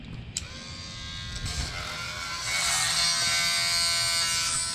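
Dremel rotary tool grinding a chainsaw chain for a 25-inch bar, a steady high-pitched whine that rises in loudness as the stone bites into the cutters, close and continuous.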